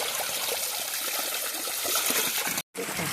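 Steady trickling and splashing water as containers are filled in a village, a continuous bright hiss with small gurgles, broken by a brief cut near the end.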